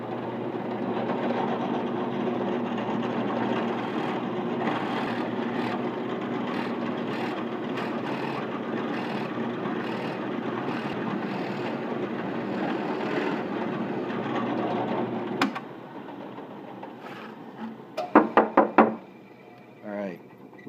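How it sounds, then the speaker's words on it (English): A drill press bores mortise holes through wood for a side table, a steady loud whirring drone running for about fifteen seconds before cutting off, followed by a few sharp knocks and clicks. "Now, to turn on our drill press, you have to have authority."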